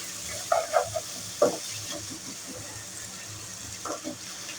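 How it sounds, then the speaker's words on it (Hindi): Spices and softened tomatoes frying over a low flame for aloo gobi, a soft steady sizzle with a few brief stirring clinks near the start and again toward the end. "यहाँ पे हम लो फ्लेम पे ही मसाले को भूनेंगे"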